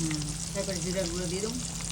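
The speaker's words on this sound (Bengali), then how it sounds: "ভাজা হয়ে গেছে এখন উল্টে দেওয়া হয়েছে সুন্দর বাজি হইছে" River fish sizzles steadily in hot oil in a pan, a continuous close crackling hiss that persists throughout, with a faint voice briefly audible underneath.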